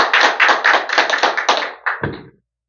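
A church congregation at a seminary spiritual revival service applauds together, a loud burst of dense hand clapping that fades out after about two seconds.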